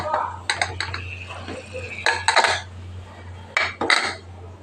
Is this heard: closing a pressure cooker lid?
yes